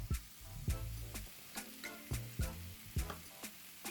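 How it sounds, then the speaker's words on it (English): Cubed butternut squash and softened red onion cook in a pan, giving a quiet, steady sizzle broken by regular scraping strokes as the pieces are stirred. "Soften up the red onion and then add in the squash. We're adding in 4 cups of our cubed squash."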